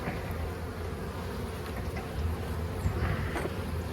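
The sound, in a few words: honeybees buzzing at an opened beehive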